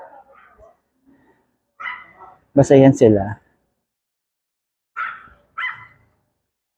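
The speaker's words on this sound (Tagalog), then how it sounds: "Anong tawag sa mga aso na mahabang tenga?" Dogs with long ears bark in short bursts along a street, heard from a passing bicycle, with someone talking in Filipino before and after the loudest barks.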